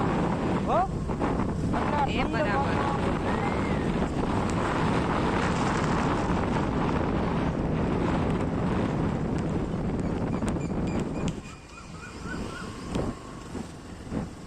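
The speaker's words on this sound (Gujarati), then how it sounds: "મસ્ત મજાનો ઠંડો પવન આવી રહ્યો છે" Strong cold wind at Somnath temple buffets the microphone with a low, rumbling roar that persists for most of the clip, then eases into gustier, quieter bursts near the end.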